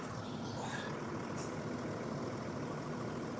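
The air suspension of a Range Rover Sport Autobiography L320 self-levels, giving one short pneumatic hiss over a quiet, steady low hum, with no talking.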